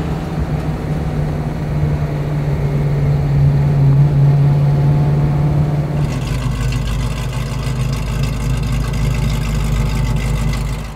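A classic Ford Mustang's engine rumbles steadily, then the tone shifts abruptly partway through as it sets off driving, a loud continuous drone throughout.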